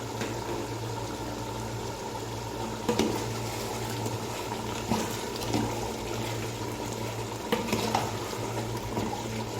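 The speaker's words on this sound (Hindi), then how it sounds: "अभी हमने मज़ीद थोड़ा और इसे पकने देना है ताकि ये जो थोड़ा पानी बचा है ये भी खुश्क हो जाए।" Black chicken karahi simmers in its pan to cook off the leftover yogurt water, giving a steady, even bubbling and sizzling hiss throughout with a low hum underneath and no talking.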